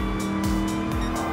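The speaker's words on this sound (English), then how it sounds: "Just giving it a little more power slide" Ford Mustang Mach 1 classic muscle car power sliding in Gran Turismo Sport, a steady loud engine drone with repeated tire squeal through the slide, no talk.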